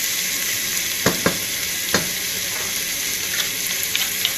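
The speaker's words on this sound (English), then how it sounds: "I'm just going to saute them just for a few moments. You can get that aroma going" Onions sauté in a pan for home-style chili, a steady close sizzle with a few sharp clicks of a utensil against the pan scattered through, no talking.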